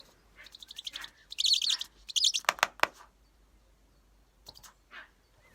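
Bird song from an aviary, bright chirping phrases and rapid trills in several bursts, fairly close, with quiet gaps between and no talking.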